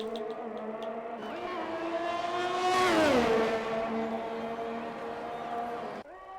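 A race car in a sim racing game, running on medium tyres, sweeps past with a rising, swelling engine whine that peaks and drops in pitch as it goes by, then cuts off sharply, with commentary over it.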